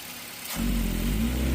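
The engine of a 2001 Toyota Corolla with a loss-of-power fault idles and then rises into a brief rev, its rumble growing louder and holding at a higher, steady drone, heard up close.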